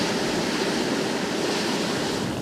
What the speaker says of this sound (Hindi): इतना तेज़ गर्म पानी इसके अंदर से निकल रहा है